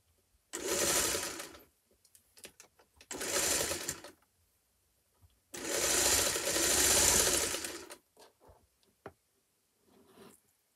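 A tan sewing machine runs in three separate short bursts of fairly quiet whirring, with small clicks and handling noises in the pauses between them.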